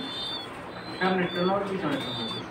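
Giribaz pigeons coo in low, rounded bursts close by, a pair of soft throaty calls over a faint steady hiss, with no talk during the sounds.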